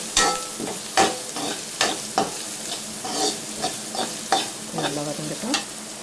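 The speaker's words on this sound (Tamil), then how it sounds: "நல்லா வதங்கிட்டோம்." Food being sautéed in a pan for Idli Manchurian, with regular clacks of a spoon stirring against the pan over a continuous sizzle, close and fairly loud with no talking.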